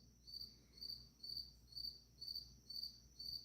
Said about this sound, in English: You hear the cricket again? Yeah, he's still playing the same song too.